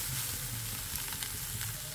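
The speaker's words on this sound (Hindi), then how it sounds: "सोयाबीन को थोड़ा सा फ्राई कर लेते हैं।" Soya chunks frying over medium flame in a kadhai, a continuous close hissing sizzle with faint stirring taps, no one speaking.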